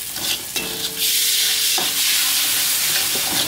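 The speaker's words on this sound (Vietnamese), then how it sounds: "Rồi mình sẽ xào" Sugar, salt and fish sauce stir-fry for dried beef macaroni, a loud close hiss swelling into a steady sizzle after a few scraping stirs at the start.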